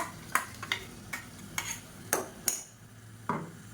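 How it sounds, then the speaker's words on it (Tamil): Blended tomatoes and masala sautéing in oil in a pan for egg curry, with a spoon scraping and stirring in several separate strokes over a soft background sizzle, close and fairly quiet. "இதையும் சேர்த்து நல்லா வதக்கி விட்டுக்கலாம் மசாலாவோடு சேர்ந்து நல்லா எண்ணெய் கக்கி வரணும்"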